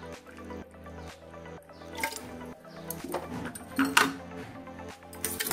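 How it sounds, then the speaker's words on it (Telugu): Water poured over chopped kohlrabi pieces with turmeric and salt in a bowl, giving a series of splashing, dripping bursts of liquid over a faint background tone. "వాటర్ పోసేసుకోవాలి।"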